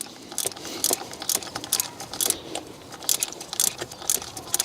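Ratchet on a socket wrench undoing the vacuum pump screws on a BMW, with sharp metallic clicks in quick bursts repeating up close throughout.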